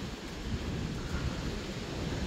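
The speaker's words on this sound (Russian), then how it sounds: "там у нас буря реально разыгралась" An outdoor storm with wind and rain makes a steady, dense rushing noise, loud and unbroken throughout, with no voices.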